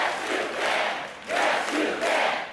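A large crowd at a North Carolina political rally chants a short rhythmic slogan in unison, two swelling waves of massed voices, loud and reverberant.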